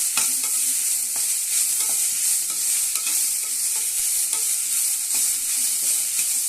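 Spring onion frying in oil with cinnamon, cloves and fennel in a pan, a loud steady sizzle broken by repeated scraping and stirring strokes, no voices.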